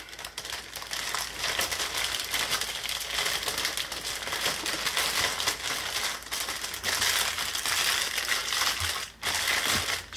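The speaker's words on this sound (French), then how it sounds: "Ah, puis je le déchire un peu le sac en plus" A plastic bag wrapping a Diamond Art Club kit is crinkled and torn, giving a dense, continuous rustling and crackling close up, with a brief pause near the end.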